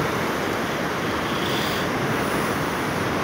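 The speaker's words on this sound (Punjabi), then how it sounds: "ਆਹ ਦੇਖੋ ਜੀ, ਪੁਲ ਦੀ ਛੱਤ ਨੂੰ ਪਾਣੀ ਲੱਗ ਰਿਹਾ" Floodwater from the swollen Sutlej river rushes against a bridge, a dense, loud, unbroken roar of churning water with no voices.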